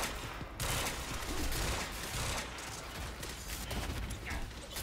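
Rapid pistol bursts crack out repeatedly in Quantum Break's combat, dense overlapping gunfire filling the space with loud, continuous volleys and no talk over them.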